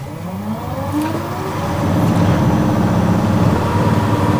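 A wood lathe spins a bead bowl at about 1200 RPM, producing a steady, rising mechanical whir and hum that grows slightly louder partway through and runs continuously, with no talk.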